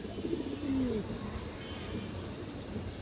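Pigeon cooing, low and soft, from a loft of fresh old-line pigeons of mixed varieties; one or two short rolling coos rise near the start over a steady murmur of background noise.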